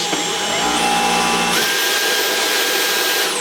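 A Dyson V11 cordless vacuum cleaner switches up to its max power setting, its steady whine rising sharply in pitch and loudness, then holding a strong, even high-pitched roar close by.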